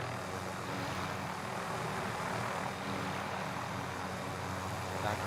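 A helicopter in a video game gives a steady, broad engine and rotor drone at moderate level, continuous and unchanging, with no talking.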